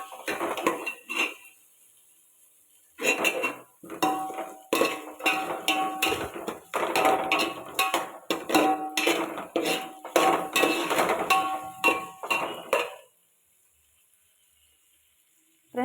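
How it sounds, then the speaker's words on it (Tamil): Eggplant sautéed in oil in a pan gives bursts of metallic clatter and scraping from stirring, with a brief pause early on, then a long busy stretch that stops abruptly near the end. "இப்போ நம்ம கத்திரிக்காய் மட்டும் சேர்த்து நல்லா வதக்கிக்கலாம்"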